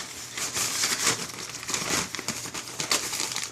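A tripod slid into a fabric carrying bag gives close, loud crinkling and rustling of cloth, shuffling in uneven bursts throughout with no talking.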